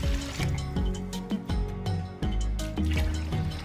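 Water poured from a cup into a large pan of rice for kheer, heard as continuous close pouring and sloshing with liquid drips and splashes for several seconds.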